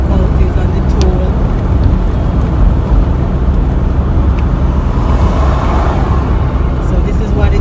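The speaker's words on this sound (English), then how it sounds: "So this is what it is like driving on the Jamaican highway." Steady, loud road roar from a car cruising on a freshly resurfaced Jamaican toll highway, continuous tire and engine noise throughout with no breaks.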